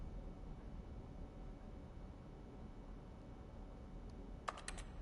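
A few quick clicks land near the end, brief and crisp over a steady low hiss, from pressing X in the video game The Stanley Parable.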